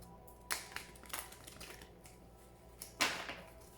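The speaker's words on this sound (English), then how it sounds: "Please think of your question as I shuffle the cards." Oracle cards are shuffled by hand in a run of quick, crisp riffling snaps and flutters, with a louder burst near the end, close and without speech.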